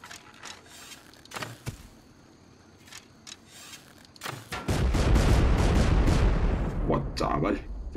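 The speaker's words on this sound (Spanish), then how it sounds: "Han estado muy bien los fuegos artificiales." Fireworks go off in the survival video game Rust: scattered sharp pops and cracks at first, then a dense, loud barrage of rumbling bursts and crackles, with a player's voice talking among them.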